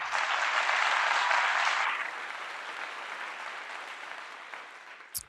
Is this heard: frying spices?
no